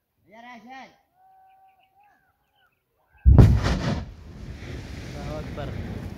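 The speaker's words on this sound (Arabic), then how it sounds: "الآن سيتم تفجير الدفعة الأولى" A rock-blasting charge goes off in the mountains during road construction, a sudden deep, loud boom followed by rumbling debris and wind noise, after a voice calls out and then a short silence.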